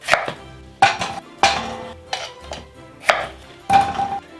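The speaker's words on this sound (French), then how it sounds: "Pommes de terre à chair jaune, la voilà, et on coupe en deux et en gros morceaux." Knife chopping yellow-fleshed potatoes in half and into large chunks on a cutting board, five or six sharp, separate thuds with short pauses between them, close and fairly loud, with no talking.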